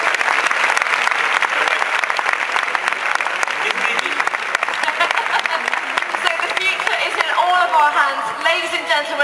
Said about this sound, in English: Un aplauso para Lucy.